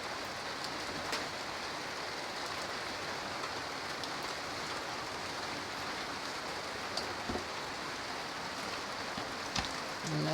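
Rain falls steadily over a Bangladeshi village, a dense, even hiss that holds unbroken throughout with no voices and only a few faint ticks and drips standing out.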